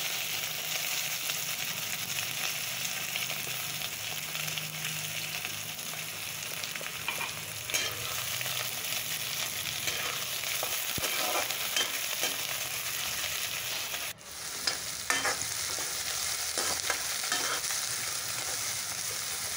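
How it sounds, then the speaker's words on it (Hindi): Onions and green chilies sizzle and fry with potatoes in a pan, a steady broadband hiss running throughout, with occasional stirring scrapes and a brief dip near the middle, no voices. "प्याज को हमें हल्का गोल्डन ब्राउन होने तक पकाना है।"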